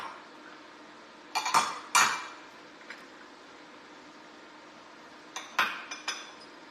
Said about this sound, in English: Now I'm going to add the onion and the chickpeas.